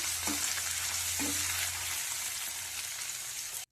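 Broad beans frying in a pan, a continuous bright hissing sizzle with a low steady hum beneath and a couple of soft knocks early on, close and even until it stops abruptly.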